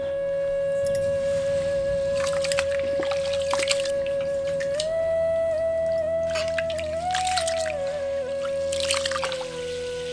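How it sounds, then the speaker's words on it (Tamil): Water trickles and drips steadily while one kilogram of jeeraga samba rice is washed and rinsed for Malabar chicken biryani, with a constant tonal hum underneath throughout. "அதை நல்லா கழுவிட்டு 10 நிமிஷம் ஊற வச்சிடலாம்."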